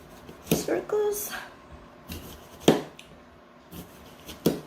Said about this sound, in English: I'm just going to keep chopping this